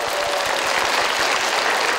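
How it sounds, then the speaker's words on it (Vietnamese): A Vietnamese TV game show studio audience applauds to close a round, a brief, dense wash of clapping at steady loudness. "một tràng vỗ tay, chúng ta kết thúc phần này"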